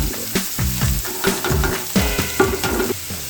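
Telakucha greens hit hot oil with browned onion and garlic, sizzling loudly while a spatula stirs them in repeated scraping strokes, with no voices over the frying.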